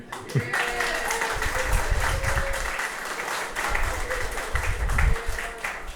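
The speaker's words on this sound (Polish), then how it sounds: "Brawa dla taty." Wedding guests clap for the father of the bride or groom in a reception hall, a loud sustained round of clapping with some voices and crowd noise underneath.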